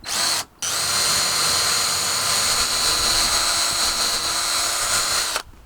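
A power drill bores into wood while building an owl box: a short whir, a brief stop, then a long steady high-pitched whine close by that cuts off at the end.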